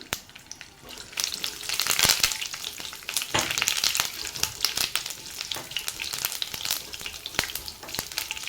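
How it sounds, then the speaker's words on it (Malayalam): Mustard seeds and curry leaves splutter in hot coconut oil in a pan, a dense steady sizzle scattered with sharp crackling pops throughout, loud and close with no voices. "കടുക് നല്ലോണം പൊട്ടിയിട്ടുണ്ട്."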